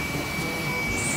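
An air blower drying a bicycle after degreasing, a loud, steady rushing hiss with a thin high whine, continuous and close.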